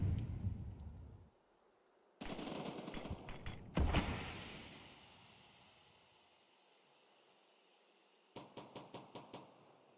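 Counter-Strike gunfire on the Dust map: a loud burst of shots, then quieter decaying noise, and finally a quick run of sharp rapid shots near the end, with gaps of near-silence between.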